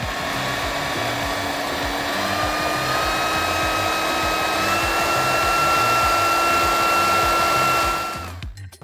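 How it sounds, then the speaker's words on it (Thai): A Makita 18V cordless drywall sander whirs steadily and loudly, its motor pitch stepping up as it moves through speed settings, then winds down at the end. "มาดูความเร็วรอบนะครับผมจะเปิดจากเบอร์หนึ่งก่อน เบอร์สองนะฮะเบอร์สาม"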